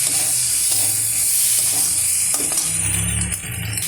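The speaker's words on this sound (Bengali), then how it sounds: "এবারে আমি দারুণ করে কষিয়ে নেব।" Boiled elephant foot yam being sautéed in a pan with mustard, green chilli and ginger: a loud, steady sizzle and hiss fills the whole stretch, with a few stirring scrapes and no talk.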